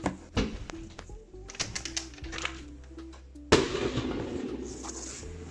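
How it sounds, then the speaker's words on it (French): Firecrackers or fireworks set off outdoors by people outside, a string of sharp cracking pops at varying distances followed by a sudden louder burst with a crackling, rumbling tail. "ils ont allumé, je sais pas trop c'est quoi, comme des pétards ou des feux d'artifice"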